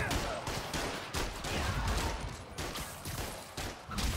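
Rapid gunfire from the Spider-Man Miles Morales video game, a dense, continuous volley of shots with sharp bursts throughout, loud and close.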